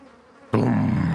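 Bees hum faintly at first, then a loud, close, dense buzzing swells suddenly and holds steady to the end, with no voices.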